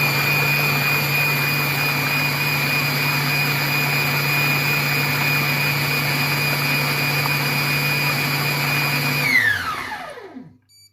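A Compact Cook Pro food processor chops tomatoes at speed 6 with a loud, steady high-pitched motor whine that holds evenly, then spins down and stops near the end.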